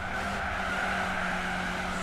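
A Ginetta race car in Gran Turismo 4 slides in lift-off oversteer, its tires giving a sustained, steady skidding squeal over a droning engine for about two seconds, loud and continuous, without talk.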